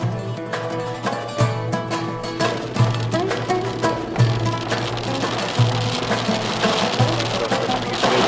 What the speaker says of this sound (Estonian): Tabas ootamatu vihmasadu.